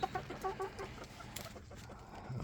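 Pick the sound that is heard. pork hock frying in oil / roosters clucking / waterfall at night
roosters clucking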